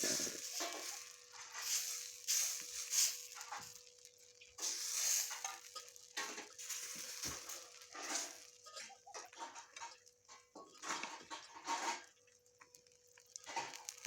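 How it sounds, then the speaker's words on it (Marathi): Rava dosa cooks on a griddle with a soft, low sizzle broken by intermittent scraping and clattering bursts, fairly quiet and close. "तर चला बघूया तव्यावर डोसा कसा छान होतोय तो"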